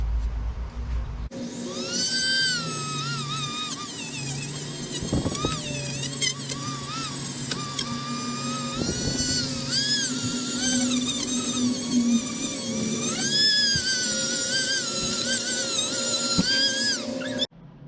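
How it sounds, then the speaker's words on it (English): A Dremel rotary tool cleans and smooths a part during a Mercury 9.9 outboard water pump rebuild, its high-pitched whine running nearly continuously and close up, shifting slightly in pitch as it works against the surface. "I'm gonna take a Dremel, go around and just get it cleaned up and smoothed out."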